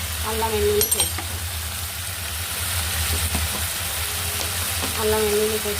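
Chopped tomatoes, green chillies and ginger-garlic paste sizzle steadily in a hot pan for a Nellore-style fish curry, with brief stirring scrapes and a low hum underneath.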